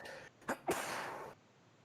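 A quick sharp intake of breath followed by one forceful sneeze, close and fairly quiet overall.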